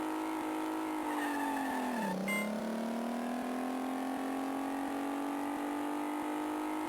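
A car in the Stuntman GBA video game pulls a handbrake 90-degree turn. A continuous buzzy chiptune engine drone dips sharply in pitch at the skid, then climbs steadily back up, with no talking.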